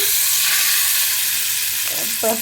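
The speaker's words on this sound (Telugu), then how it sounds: "తాలింపు వేగిపోయింది. ఈ మిశ్రమాన్ని పచ్చడిలో వేసేసుకుంటున్నానండి." Hot tempering poured from a pan into mango roti chutney, giving a loud, steady close-up sizzle and hiss that fades slightly, followed by a couple of soft clinks from the utensil near the end.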